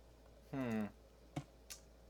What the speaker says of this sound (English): banging on this goddamn keyboard